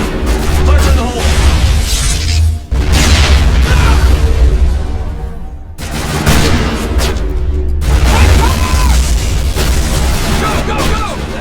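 Heavy explosions go off in a shooter video game after a thrown explosive, loud booming bursts with sudden cutoffs, one after another, while players shout over them.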